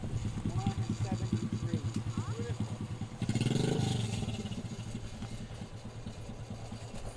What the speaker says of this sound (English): stopping by on his motorcycle, you hear, leaving to check out the distance on jump number 2